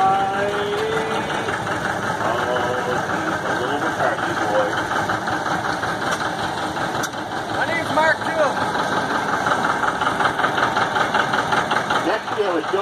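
Antique tractor engines running steadily during an engine show parade, a continuous mid-pitched idle with a knocking chug, heard nearby against outdoor background noise.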